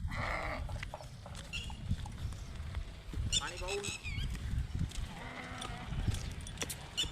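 Sheep bleat in scattered calls amid outdoor bustle, with hoof clatter and people talking in the background.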